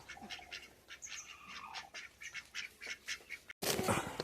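Farm ducks quack repeatedly at close range while being fed paddy, a busy overlapping run of short nasal calls, with one louder, harsher burst near the end.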